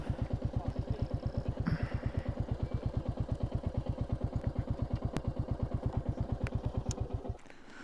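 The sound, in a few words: motorcycle engine running nearby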